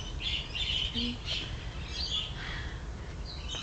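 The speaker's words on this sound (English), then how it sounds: "Hello, birds." Several birds chirp and squawk outdoors in scattered short calls over a steady low rumble, moderately faint and a little distant.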